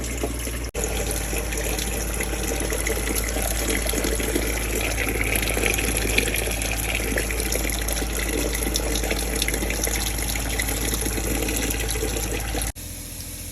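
A kitchen faucet in a Winnebago RV runs cold water steadily into the sink, a loud, continuous gushing rush that holds for several seconds before cutting off briefly and resuming.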